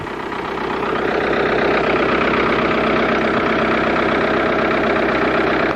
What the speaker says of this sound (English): Dutch Mantell driving a tractor.